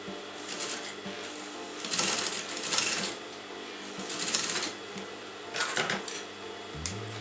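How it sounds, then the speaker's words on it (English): A sewing machine top-stitches a wedding designer blouse in rapid, uneven runs, starting and stopping several times, with small clicks and knocks between bursts and no speech. "Starting from the outer edge, you're going to sew that in."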